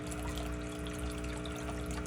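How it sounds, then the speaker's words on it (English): Water steadily drawn out of a fish tank through an opened drain valve, a continuous close gurgling rush with a low pump-like hum throughout, no talking. "open this valve down here. And that's going to suck the water out of the fish tank."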